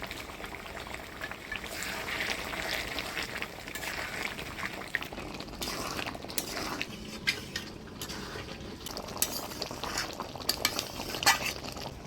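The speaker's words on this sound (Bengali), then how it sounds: "এবার গরম মশলার গুঁড়া দিয়ে নাড়াচাড়া করে নামিয়ে দিব" Potol shrimp curry stirred in a pot after garam masala powder goes in, with soft bubbling and intermittent spoon scrapes and clinks against the pan, fairly quiet and close.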